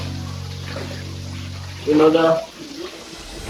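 Water pours gently into a catfish pond, a short splashing gush lasting about half a second, with someone speaking over a steady background hum.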